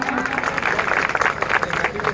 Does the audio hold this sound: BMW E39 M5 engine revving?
no